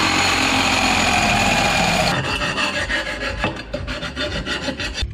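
An exhaust pipe on a Jeep Grand Cherokee EcoDiesel being cut during a DPF delete, heard as a loud, continuous, close abrasive grinding that shifts after about two seconds into a rougher, pulsing rasp, with no speech.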